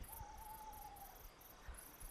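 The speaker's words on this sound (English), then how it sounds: "listen to the bugs, listen to any birds that you might hear, all the crickets" Crickets chirp at night in a quiet outdoor setting, a faint, steady pulsing high-pitched trill that carries on without a break, with a soft low tone briefly sounding beneath it.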